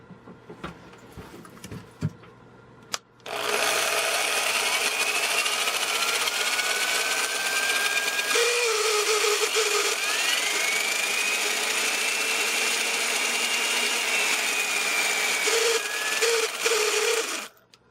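An old electric power tool with its ground connector cut off runs in a steady, loud motor whine that starts abruptly, shifts pitch at a rough gear change, then keeps droning before stopping.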